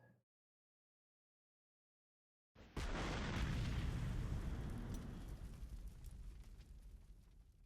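A Gustav railway gun in the Panzer Corps 2 game fires a single heavy shell after a stretch of silence, a loud, deep boom whose rumbling roar slowly fades over several seconds.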